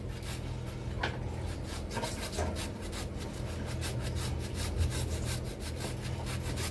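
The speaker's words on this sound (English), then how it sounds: "Proper zest in that lime." Fresh lime being zested on a grater: quick, rhythmic scraping strokes sound close by and hold steady for several seconds, with no voices over them.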